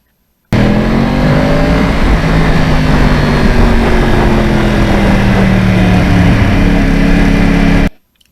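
A 2009 Yamaha R1 crossplane motorcycle engine drones loudly and continuously for several seconds at close range, its pitch shifting gradually as it pulls, before cutting off abruptly.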